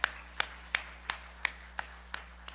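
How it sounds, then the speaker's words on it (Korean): A church congregation claps in unison, eight sharp, evenly spaced claps at a brisk steady beat over a faint low room hum, with no voices. "하나님께 박수를 영광."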